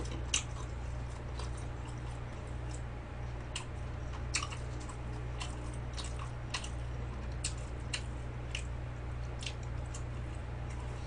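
Close, wet chewing and soft biting of mushroom hot pot during a Korean mukbang, in a steady run of small squishy crunches with no talk.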